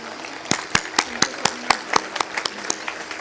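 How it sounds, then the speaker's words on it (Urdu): Graduating students at a university convocation applaud their parents, a steady patter of many hands with sharp individual claps standing out, moderately loud with some voices mixed in. "تو میں چاہوں گا کہ تمام ہی اسٹوڈنٹس کھڑے ہو کے اپنے والدین کے لیے زوردار تالیاں بجائیے"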